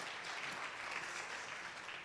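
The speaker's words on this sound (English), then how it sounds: "Big applause to them, please." A conference audience on a main stage applauding, a steady wash of many hands clapping that sounds fairly distant and soft, with no voices standing out.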